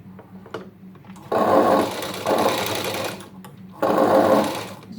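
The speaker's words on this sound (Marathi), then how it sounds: "आता बघा हे साईडने आपल्याला अशी शिलाई मारून घ्यायची पाव पाव इंचावर" Sewing machine stitching lining fabric a quarter inch from the edge for a sleeve design, running in three close, loud bursts with short pauses between them.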